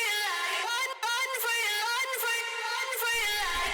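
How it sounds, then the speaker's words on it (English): A reverb-soaked vocal chop from an electronic dance track, washed out and sustained, plays as a continuous sung texture over a mix, with a low beat entering near the end. "So yeah, the vocal chop with the reverb sounds like this."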